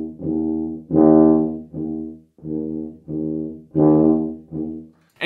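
Tuba plays a short phrase of sustained low notes at moderate loudness, a few notes with stronger, punchier attacks standing out as accents, with brief gaps between notes and no talking.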